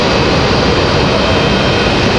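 Aircraft engines roar steadily at Raleigh-Durham International Airport, a loud, continuous broadband jet rumble with no pauses, heard alone without talk.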